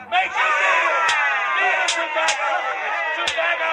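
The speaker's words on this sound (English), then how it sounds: "the crowd roared with the frenzy" A large crowd roars and shouts in frenzy in a radio drama, a steady, dense mass of voices with a few sharp cries rising above it throughout.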